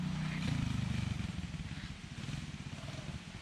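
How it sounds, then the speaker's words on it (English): A Sunl SLA 90cc Chinese four-wheeler ridden through woods, its small engine buzzing steadily and close, rising slightly early on and then holding an uneven, pulsing drone. "here's my crazy younger brother Isaac riding his little 90cc four-wheeler"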